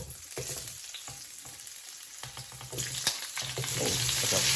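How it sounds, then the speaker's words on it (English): Red potatoes dropped into hot bacon grease, frying with a loud, continuous sizzle and spitting pops that swell toward the end. "We're going to drop our red potatoes in the bacon grease, y'all."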